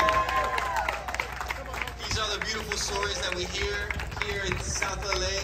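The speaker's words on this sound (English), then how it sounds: "Let's clap it up for Elizabeth Monterrosa one more time." A crowd at a street fair on Crenshaw Boulevard applauds, giving steady clapping with some cheering and chatter mixed in, continuous and moderately close, while voices carry through the applause.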